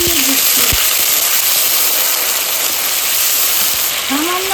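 Water splashed into a pan of frying ground cumin and coriander paste for a Bengali doodh potol curry, giving a loud, steady broadband sizzle and hiss that runs throughout, with brief faint tonal squeaks near the start and end.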